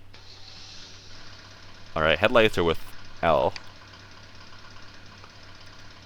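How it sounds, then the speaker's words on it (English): A massive industrial machine's engine idles in Giant Machines 2017, a steady low rumble running throughout, while someone speaks briefly over it. "I need to start the engine"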